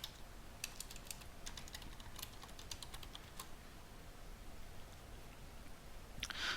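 Computer keyboard being typed on to enter domain login credentials, a quick run of close, faint key clicks over a soft steady background hiss, with a short burst of keystrokes near the end.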